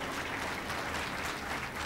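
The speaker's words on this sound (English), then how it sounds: "Give him a big hand of applause" Steady applause from a crowd at an Ayurveda congress in Bangalore, dense clapping that holds at an even level throughout.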